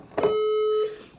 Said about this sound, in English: The fire alarm system is operated. Stand by for further instructions.